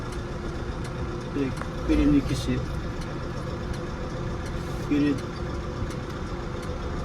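A Landini 5-120rs tractor engine idles steadily through gear changes, with brief bumps in level as shifts engage, while someone talks over it throughout.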